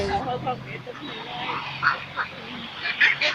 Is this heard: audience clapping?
no